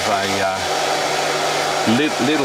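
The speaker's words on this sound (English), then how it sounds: "get the worktop hairdryer and just give them a little bit" A worktop hair dryer blows over painted stone with a steady, loud rushing whir, its pitch wavering briefly at the start and near the end.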